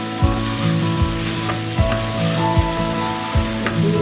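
Vermicelli upma with colourful vegetables, including capsicum, being mixed in a hot pan: a steady sizzle with a low hum beneath and a regular series of spoon knocks and scrapes against the pan, close and fairly loud.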